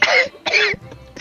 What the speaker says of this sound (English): Thank you, random coughing NPC.